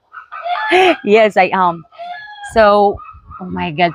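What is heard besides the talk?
chicken clucking and crowing nearby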